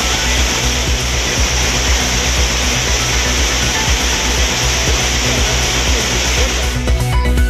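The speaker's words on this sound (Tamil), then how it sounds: "மேற்கு தொடர்ச்சி மலைப்பகுதிகளில் தொடர் மழையால் ஆர்ப்பரிக்கும் குற்றாலம்." Heavy roaring of the Courtallam waterfalls in the Western Ghats, swollen by continuous rain: a loud, steady, dense rush of falling water that continues unbroken throughout, with no voices.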